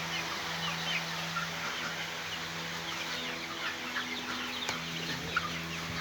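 Chickens cluck and chirp in short, scattered calls at a small poultry raising spot where birds have grown past one kilogram, over a steady low hum with no talking.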